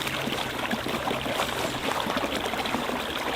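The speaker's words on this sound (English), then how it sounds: "There's a lot of little connecting areas here in this water. This is what's making so much noise." A small woodland stream pours through many little connecting channels at a bushcraft campsite, making a steady, close, full rush of trickling and splashing water with no break from start to end.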